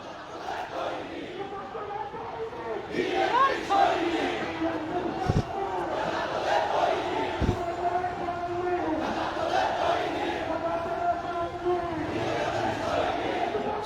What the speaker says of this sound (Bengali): স্লোগানে স্লোগানে স্লোগানে উত্তাল রয়েছে এই মুহূর্তে